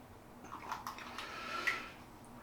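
A teaspoon of water is poured into a shaving bowl, making a soft, brief trickle and splash that stays quiet and close, with no voices.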